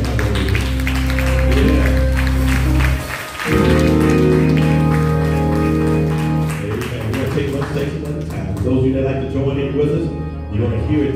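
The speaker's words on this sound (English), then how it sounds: "Would you please clap your hand for the choir?" A church congregation claps for the choir as music fades out. Sustained applause rises over the held organ and choir tones, with brief voices mixed in.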